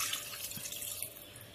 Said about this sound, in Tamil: இந்த ஸ்டேஜில் நம்ம இதில் வந்து 1 கப் தண்ணி ஆட் பண்ணிக்கலாம்.